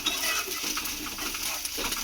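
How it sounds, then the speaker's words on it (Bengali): A spatula scrapes and chops a fried egg in a pan, breaking it into small crumbles; soft, steady scraping and tapping against the pan, close and fairly quiet, with no talk. "এই খুঁটি দিয়েই কিন্তু কুচো করে দিলে খুব তাড়াতাড়ি কুচো হয়ে যাবে দেখুন"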